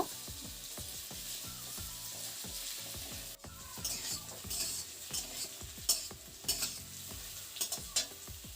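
Potatoes frying with onions in a pan: a rhythmic series of close spatula strikes and stirs, then a brighter, crackling sizzle with sharp pops.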